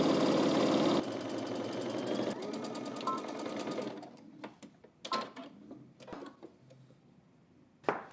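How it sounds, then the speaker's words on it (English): A sewing machine stitches shoulder seams in jersey knit fabric, running with a rapid, even mechanical chatter for about four seconds before stopping, followed by faint handling clicks and rustles. "now let's head to the machine. We're going to stitch across the shoulders using 5/8 of an inch seam allowance."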